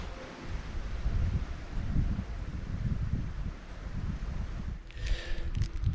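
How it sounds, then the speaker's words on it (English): Wind gusts through trees in the British countryside as a steady, fluctuating rushing with rustling leaves, broken near the end by a few soft close handling noises. "I'm quite happy just with hearing the wind blowing through the trees"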